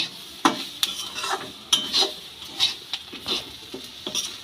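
Soft sizzling of semolina frying with vegetables, sugar and salt, with repeated scraping and stirring taps of a utensil against a pan, steady and close, no voices.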